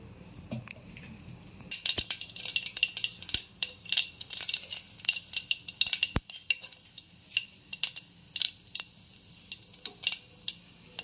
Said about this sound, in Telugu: ఆయిల్ హీట్ అవ్వగానే కొంచెం తాలింపు దినుసులు,